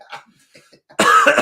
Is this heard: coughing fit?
yes